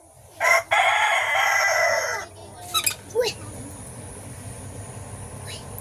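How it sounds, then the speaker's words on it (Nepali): A single loud rooster crow rings out near the start, followed by a few brief scattered noises over a low background hum. "कुखुरा करायो"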